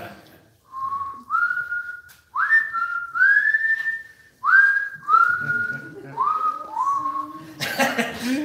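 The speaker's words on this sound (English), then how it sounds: "he got up there and just started whistling" A man whistles a hymn tune solo, clear pure notes in slow sliding phrases with short breaths between them, close and loud, ending with a brief burst of noise.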